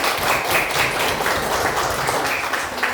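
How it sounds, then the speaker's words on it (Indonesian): A class of students claps for themselves in a classroom, a steady patter of many hands filling the room at moderate loudness throughout, with no voices over it. "tepuk tangan dulu untuk dirinya sendiri hari ini"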